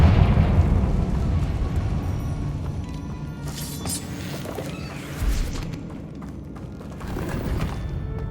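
Fiery Confringo spell blasts in Hogwarts Legacy, with rumbling bursts and crackling, shattering debris over a dense combat din of mechanical clatter, sustained and fairly loud throughout.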